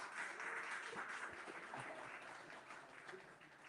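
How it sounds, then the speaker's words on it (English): Applause from an audience at an SRE and Docker tech meetup in Kuala Lumpur, a dense steady wash of clapping filling the room that slowly thins toward the end, with no talk over it. "Another round of applause for our speaker, Chee Lim Toh."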